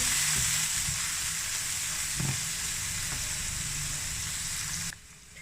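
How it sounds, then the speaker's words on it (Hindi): Finely chopped onion frying with cumin in a pan, a continuous close hiss of sizzling oil with a few soft scrapes, which stops abruptly near the end. "प्याज को भी हल्का सा फ्राई करेंगे।"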